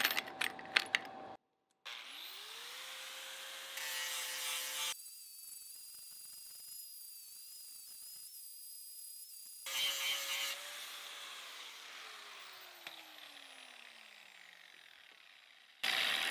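An angle grinder fitted with a worn Victograin grinding disc cuts into metal. It spins up to a steady high whine, breaks into two loud rasping bursts of grinding, then winds down with a falling tone. No one speaks.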